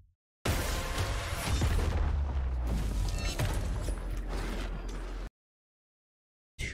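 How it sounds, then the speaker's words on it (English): Large explosion from two hunter trip mines set off together in Destiny 2 gameplay, a loud deep blast with rumbling, crackling debris that holds for several seconds and then cuts off abruptly. "Looks like the hunter just threw two trip mines at once and made a very large explosion"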